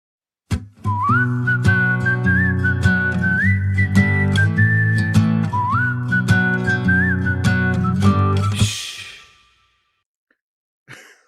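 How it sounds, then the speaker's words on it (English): Loud whistled melody from the Home Free a cappella song Challenge the Sea, a sustained tune over layered vocal harmonies and bass that runs for several seconds before cutting off. "That whistling, it reminds me of like cartoons or comedies where someone has done something"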